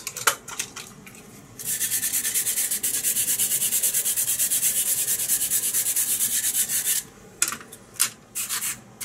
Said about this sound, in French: On va terminer ça avec la petite brosse.